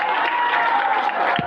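A crowd in a temple gathering at Nandgaon claps together in steady, dense applause, loud and continuous for the whole short stretch.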